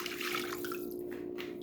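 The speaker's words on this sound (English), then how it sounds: "I'm gonna add 250 grams of warm water." Warm water at 105 degrees Fahrenheit pours into a large bowl for Japanese milk bread dough, a brief soft splashing trickle over a faint steady hum, with no talk.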